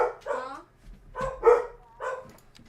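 A black lab and at least one other dog bark in a few loud, close bursts separated by short pauses, with some yipping in between.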